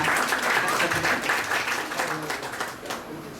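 An audience applauding at a book release, a full burst of clapping from a crowd that tapers off toward the end.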